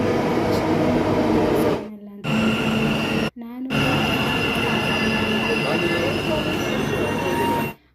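A metro train pulls into a station at Mantri Mall, Malleshwaram, with a loud rumbling roar and sharp wheel squeals. The noise dips twice during brief pauses, and people talk over it.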